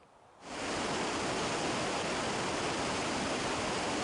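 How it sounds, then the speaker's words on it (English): Kennebec River water rushing and flowing in a steady, loud, broadband roar that starts abruptly after a brief quieter moment and then holds constant without voices. "I'm here at the Kennebec River at the start of the water treatment cycle"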